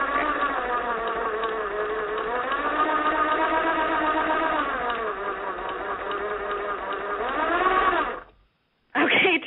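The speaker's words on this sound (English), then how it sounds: "Yes, it's a sewing machine." Sewing machine running in a steady whirring buzz, with harmonic motor tones that dip and rise in pitch as it slows and speeds, then a sudden brief stop before it starts again.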